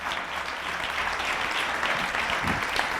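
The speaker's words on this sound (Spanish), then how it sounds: "Dale un aplauso a Gabriel." Steady applause from a church congregation at a Sunday service, a dense patter of clapping that holds evenly for a few seconds.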